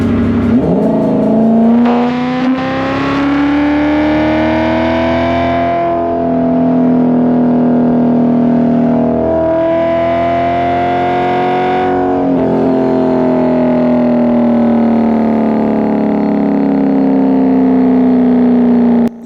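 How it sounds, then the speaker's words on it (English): Porsche 928 fitted with MSDS racing headers, 3-inch pipes and titanium-tipped exhaust, revving loud and close: a deep, throaty engine note that rises and falls in several sustained pulls, with a rough, buzzing edge and no talk. "of Marty at MSDS and Tony at Pro Automotive, I fitted a wonderful new exhaust system with MSDS racing headers, 3-inch pipes and titanium tips to match my car"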